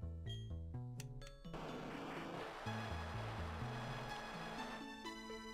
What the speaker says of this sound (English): And we can go up the waterfall.